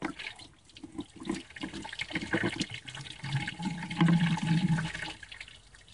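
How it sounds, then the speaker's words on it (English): Coolant drains out of a 1989 Jeep Cherokee cooling system after the pressure cap is taken off, a steady close splashing, gurgling flow that grows fuller and louder toward the end. "And to help it drain a little better, take off this pressure cap and she'll go flying."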